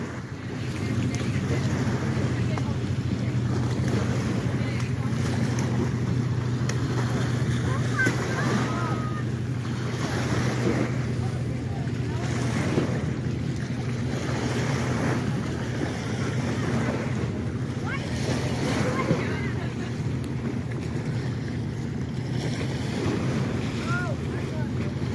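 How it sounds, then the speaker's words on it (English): A departing ferry's engines drone steadily and loudly throughout, a continuous low rumble mixed with wind buffeting the microphone and the wash of waves at a hazy beach. "You can hear it till you hear the engines."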